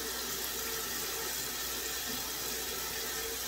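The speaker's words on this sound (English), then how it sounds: "Sorry about the water. Like I said yesterday, the drain doesn't hold in this" Water runs steadily into a sink whose drain will not hold, giving a continuous close splashing rush with no pauses for the whole stretch.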